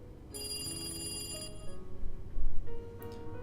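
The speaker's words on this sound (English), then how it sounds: "The phone on the desk rang, and the cop picked it up." A desk telephone rings in a police station scene of the Higurashi visual novel game, a bright electronic ring tone over a low music bed, rising briefly near the end.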